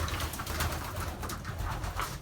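A tame pigeon coos softly amid a constant background rumble, its low rolling calls repeating over a couple of seconds with no talking.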